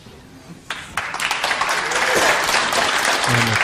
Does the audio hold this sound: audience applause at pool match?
yes